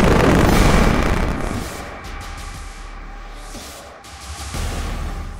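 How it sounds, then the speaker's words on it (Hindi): A heavy, rumbling blast from a building being demolished with explosives in New Jersey, rolling on into a long, low roar of collapsing debris, fading slightly before swelling again. "एक धमाका और बिल्डिंग धड़ाम।"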